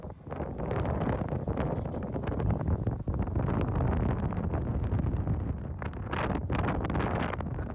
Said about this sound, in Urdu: بہت تیز ہوا ہے ساتھ مٹی